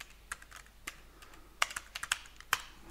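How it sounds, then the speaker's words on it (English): Keystrokes on a computer keyboard entering the IP address of a DNP3 server during client setup: a dozen or so crisp, close taps in an uneven rhythm, with a few sharper presses near the end and no voices. "I have to type in the IP address of the DNP3 server"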